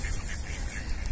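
Ducks quacking steadily at a pond while being fed bread on a walk, with outdoor ambience around them.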